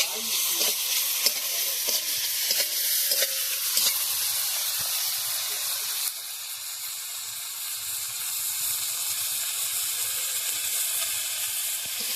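Prawns frying in hot oil in a Bengali village kitchen, a loud, continuous bright sizzle and hiss with occasional stirring clicks, steady throughout without talk.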